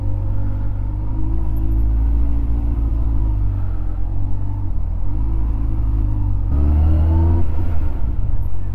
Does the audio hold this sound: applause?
no